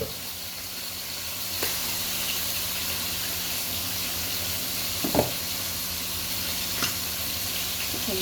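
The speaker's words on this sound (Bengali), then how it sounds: "এখন দিয়ে দিব লাউ। এই যে লাউ, লাউ দিয়ে ইলিশ মাছ রান্না।" Hilsa fish curry sizzles and hisses steadily in a pan as bottle gourd goes in, with a few brief clatters over the continuous frying.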